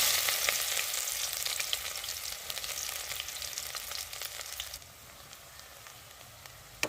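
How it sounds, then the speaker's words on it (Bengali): Cumin seeds and onions fry in hot oil with a bright, crackling sizzle that is loud at first, then settles to a quieter hiss, with a soft clink near the end. "জিরেটা হালকা ভাজা হয়ে গেলে এবার দিয়ে দেবো পেঁয়াজ"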